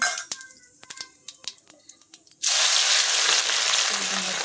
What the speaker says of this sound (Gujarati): થોડું નાખી દઉં જીરું મસ્ત જીરું નાખી હિંગ નાખી દઉં